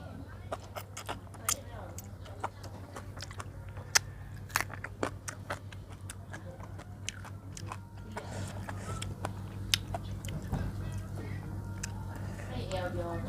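Crunchy biting and chewing while eating Thai cassod-leaf curry with skin, rice noodles and jaew dip: sharp, close cracks and munches repeat irregularly over a low steady hum, with talking in between.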